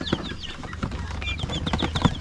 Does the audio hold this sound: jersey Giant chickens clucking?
yes